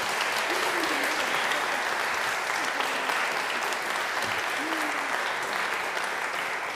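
A church congregation claps during a morning service, sustained dense applause from many people that stays even and loud across the whole stretch, with a few faint voices beneath it.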